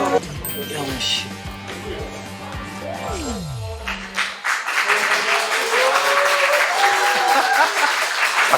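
Musical tones from a talk concert fade out, then audience applause rises and continues steadily through the second half, with some voices mixed in.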